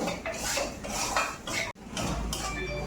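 A spoon scraping and clanking inside a pot while stirring mung lentils with salt and turmeric, metallic scrapes in short uneven bursts, close and fairly loud, with a brief pause partway through.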